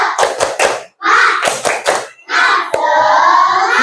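A class of fifth-grade students performs a rhythmic group clapping chant, loud close claps in quick patterned bursts separated by brief pauses, with the children shouting along between the claps.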